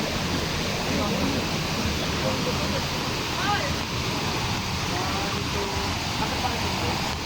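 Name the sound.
Talay Falls waterfall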